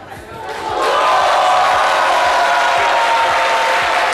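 A TV studio audience breaks into applause, swelling quickly from a quiet start into loud, sustained clapping with crowd noise that holds to the end.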